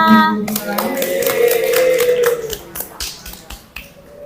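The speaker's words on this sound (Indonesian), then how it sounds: "Kita beri tepuk tangan dulu untuk kita semuanya" Schoolchildren in a classroom clap their hands together, a few scattered, close claps and snaps that follow a sustained tonal sound.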